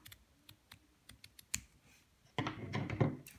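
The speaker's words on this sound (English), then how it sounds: "First thing to do is cut the bra strap." Scissors cut through a bra strap at a sewing table: a few faint clicks, then a louder burst of snipping and fabric rustle near the end.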